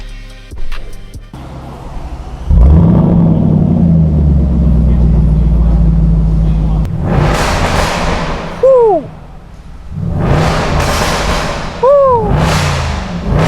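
A Land Rover Defender 5.0 V8 fitted with a Veleno Performance exhaust revs loudly and deeply, with a sustained roar followed by several sharp blips, while people cheer and shout excitedly over it.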